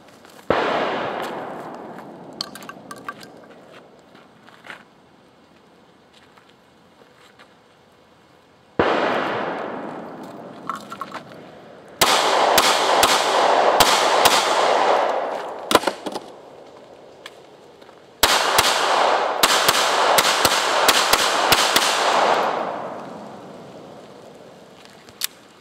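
Gunshots from Springfield XD Sub-Compact and Walther P22 pistols, fired in several rapid bursts of sharp cracks with echoing tails, loud and close, separated by brief quieter gaps.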